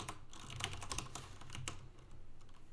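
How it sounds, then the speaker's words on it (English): Rapid, uneven keystrokes on a computer keyboard, close by and fairly quiet, typing a short chat message with no one talking. "We'll type in hello from input and send the message."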